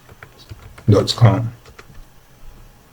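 A web address being typed on a computer keyboard: faint, scattered keystroke clicks under someone speaking briefly at close range.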